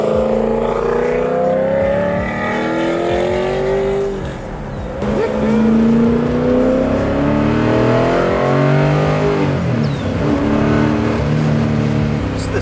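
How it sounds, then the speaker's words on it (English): A 1970 Plymouth Cuda's Mercury V8 revving hard through shifts, loud and close with rising and falling engine pitch and a brief dip between gears, with some talk underneath. "that Mercury motor, dude, it's nasty sounding"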